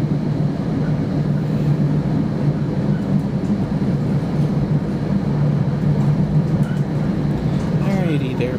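Steady low rumble of an NJ Transit train running on the main line, heard from inside, continuous and loud with a faint squeal near the end.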